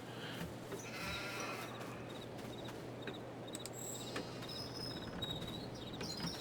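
Sheep bleating in the farming video game Farming Simulator 22, faint and scattered over a steady low hum and insect-like ambient chirping, with no voices.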